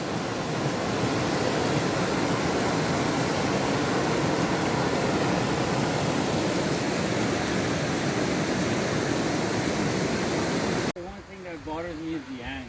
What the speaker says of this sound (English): Just really nice to sit in these waterfalls.